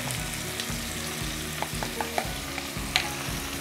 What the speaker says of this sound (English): Just gonna stir everything together.